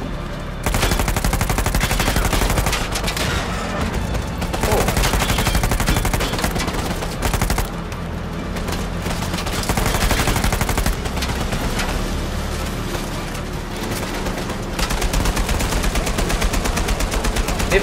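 Bursts of automatic gunfire in the Uncharted 4 video game, loud and close, with rapid machine-gun volleys coming in long stretches separated by short pauses.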